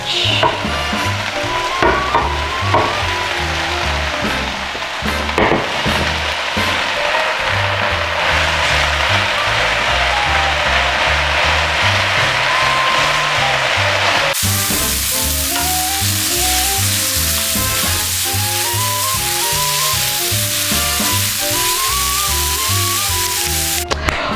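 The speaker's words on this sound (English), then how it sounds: "So just letting the onions sweat down." Onions and garlic sizzle steadily in a hot pan, a constant close frying hiss with occasional stirring scrapes and background music throughout.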